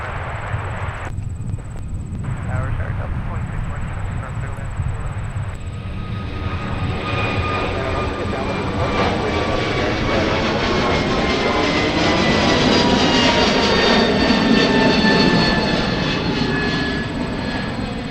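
Airliner departing from runway 30 right at MSP airport, jet engines building into a long, loud roar that swells steadily over the whole stretch, with a high whine riding on top.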